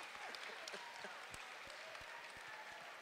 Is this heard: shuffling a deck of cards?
no